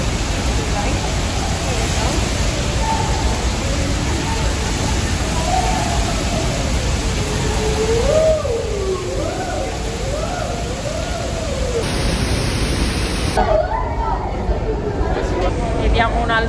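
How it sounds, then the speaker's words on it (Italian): Niagara Falls roaring as a constant heavy wash of water, heard from inside a tunnel behind the falls, with people talking and exclaiming over the steady rush. "Siamo proprio dietro la cascata."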